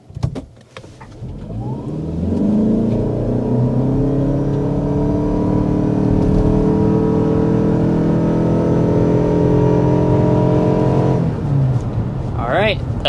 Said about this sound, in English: start with a hard acceleration so you can see what this Toyota engine is like